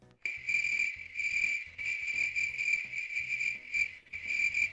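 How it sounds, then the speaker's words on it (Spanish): Cricket chirping used as a comedic sound effect: a loud, dense, steady trill of rapid pulses with brief gaps, heard alone with no voices. "Grillos."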